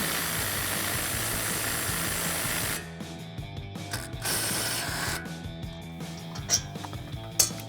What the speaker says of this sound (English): We're gonna grab our impact and 15 millimeter socket,